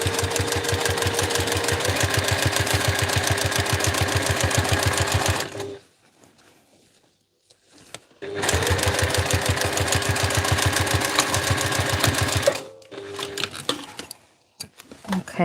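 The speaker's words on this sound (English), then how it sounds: "I'm going to sew another row of stitching just in case" A sewing machine stitches a backpack strap in two loud, rapid, rhythmic bursts of several seconds each, separated by quiet pauses, ending with a short final run.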